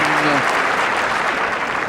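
A tennis crowd at the 2002 Indian Wells semifinal between Henman and a player applauds with a dense, steady clatter of clapping. A voice is briefly audible at the start.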